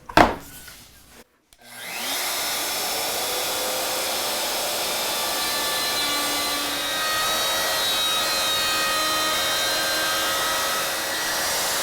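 A saw rips 3/4 inch plywood to an 80 mm width, starting after a brief knock and then holding a loud, steady whining cut close by for about ten seconds.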